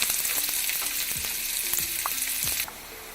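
Sliced small shallots sizzle in hot ghee for a jeera kanji tempering, a dense continuous crackle with occasional spoon scrapes, heard close, easing slightly at the end.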